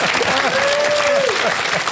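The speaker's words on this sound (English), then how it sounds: "that's more like what I call applause." A studio audience at an Australian television debate claps loudly and steadily, a dense wash of applause that fills the whole moment.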